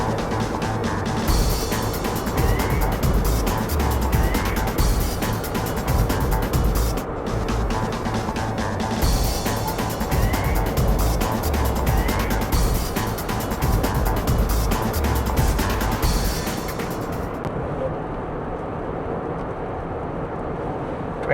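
An electric car drives along a road on a long trip, with continuous tyre and road rumble and wind rush sounding loud and close throughout, steady from start to finish.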